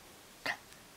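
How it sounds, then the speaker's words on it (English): A dog gives a single short, sharp bark at moderate distance in a quiet indoor room, followed by a fainter echo-like yelp. "Doggy."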